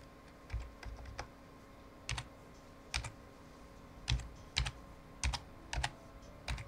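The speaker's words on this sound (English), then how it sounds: "Loud typing." Loud typing on a computer keyboard: clusters of sharp key clicks in irregular bursts with short pauses between them, close and distinct, with no talking.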